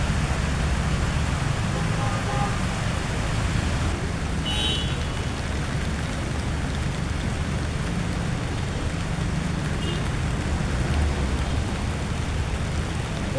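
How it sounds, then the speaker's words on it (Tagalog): Heavy rain pours down in Cagayan de Oro, a dense, constant hissing roar of water hitting surfaces nearby that stays loud and unbroken throughout. "Grabe na yun, kusog sa ulan."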